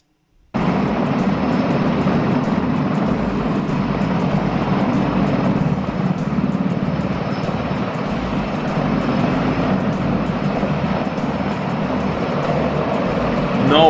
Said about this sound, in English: Don't tell me this helicopter is gonna race a plane.